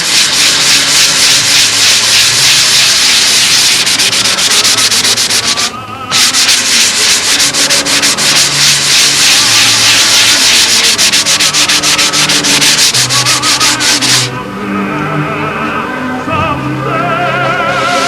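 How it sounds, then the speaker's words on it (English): Hand sanding on a fibreglass boat around the glass work, a steady loud back-and-forth rasping rub running nearly continuously with one brief pause, then easing into quieter scraping near the end. "it can always use a little extra sanding."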